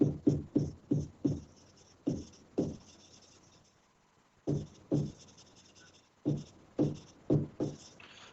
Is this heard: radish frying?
no